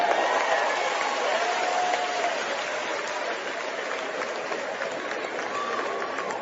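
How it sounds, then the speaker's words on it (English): A church congregation clapping their hands during a sermon, a broad, steady wash of many hands clapping together with a faint murmur of voices under it, gradually easing slightly in loudness. "clap your hands."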